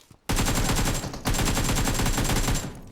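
Rapid automatic gunfire in the mobile battle royale game PUBG Mobile, a loud dense burst after a brief pause, then a second sustained volley that fades slightly at the end.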